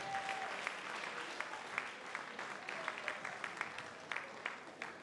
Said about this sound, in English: Can we all give a big hand of applause for that?